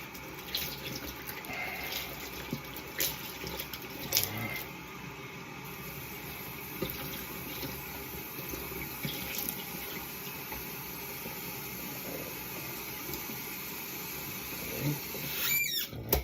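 Running tap water rinses out a shaving brush at a sink, a steady close splashing stream with brief clinks and knocks partway through and near the end, no talk.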